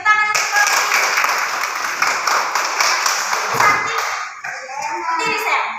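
Elementary school children clap their hands in a classroom, a dense burst of clapping that fades after about four seconds into scattered taps and voices.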